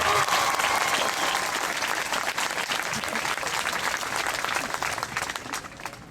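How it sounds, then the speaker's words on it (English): A high school graduation audience at Keyport High School breaks into loud, dense applause after student speeches, a continuous wash of many hands that slowly tapers off toward the end. "You could give them another round of applause."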